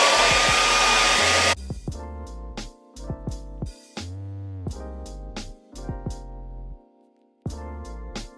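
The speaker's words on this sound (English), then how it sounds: "And now I'm ready to start blow drying." A hair dryer blowing on hair roars loudly and close for about a second and a half, then cuts off, leaving a run of separate plucked musical tones.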